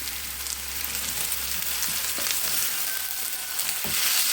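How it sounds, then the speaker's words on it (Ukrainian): Julienned onion sizzling and frying in a pan, a steady moderate hiss with occasional soft stirring scrapes and pops, no voices. "І так, наша цибулька обсмажується"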